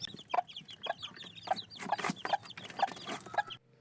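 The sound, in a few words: hen and newly hatched chicks clucking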